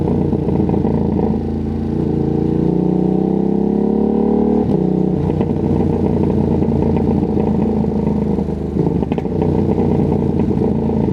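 A Ducati Streetfighter V2S motorcycle revs hard and loud up close, its engine note climbing steadily before a sharp exhaust crack, then settling into a rough, steady roar for the rest of the ride.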